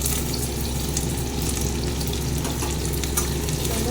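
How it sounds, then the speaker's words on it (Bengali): Onion and dried fish fry together in a pan with a steady, dense sizzle and crackle that holds close and even throughout, with no voices. "পেঁয়াজ আর এই শুকনো মাছটাকে একটু নিয়ে একসঙ্গে ভেজে নেব"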